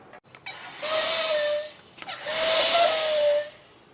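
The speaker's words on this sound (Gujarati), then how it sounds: "આ રીતે સીટી વાગે એટલે સમજી લેવાનું કે તમારી સોડા બની ગઈ છે." A home soda maker releases gas in two loud, close hissing bursts. Each burst lasts about a second and carries a thin whistling tone, with a short pause between them and no speech.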